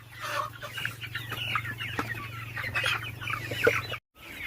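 Village chickens on a small poultry farm cluck and chatter continuously under a steady low hum, ending in a brief silent break.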